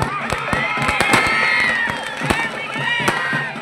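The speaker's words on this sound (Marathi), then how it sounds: "फटाक्यांच्या आतिषबाजी" Fireworks burst at a village wrestling match, with sharp crackling pops and bangs layered over a cheering, shouting crowd, close and loud throughout.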